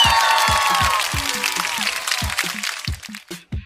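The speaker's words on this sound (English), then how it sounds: "Let's give this queen a round of a well-deserved applause." Applause for a finished episode in a high school simulator game contest, a loud burst of clapping and cheering that thins out, with rhythmic low thumps of music running underneath.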